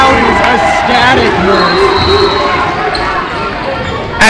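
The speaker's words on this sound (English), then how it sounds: "This Trojans crowd is ecstatic" Excited home crowd at a varsity women's volleyball game in a school gym, cheering loudly and continuously in a dense roar with shouting voices, while a nearby voice talks over it.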